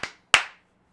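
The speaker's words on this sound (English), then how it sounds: "I just clap and whatnot. Make loud noises." Two sharp hand claps, close and crisp, the second louder than the first, each decaying quickly, with silence after.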